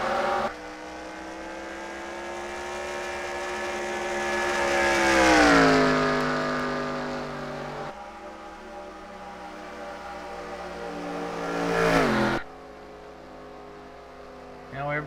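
Race cars in a racing video game drone and accelerate in a steady pack under caution, engine pitch rising and falling as they chase back up to the pace car, loud and continuous with a commentator talking over them.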